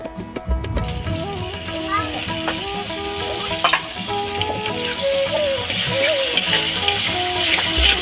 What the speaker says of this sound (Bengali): এই টমেটো পেস্টটাকে আমরা কড়াইতে দিয়ে দেব